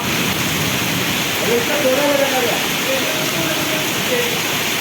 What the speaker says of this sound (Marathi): खूप पाऊस चालू आहे